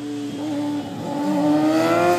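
A sport motorcycle engine, a GSX-R or ZX-6R, revs steadily up through its range in one continuous, loud, close rising drone.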